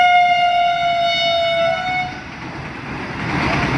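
A passing train sounds a loud, sustained horn for about two seconds, then its heavy rumble rolls on close by as the wagons go past.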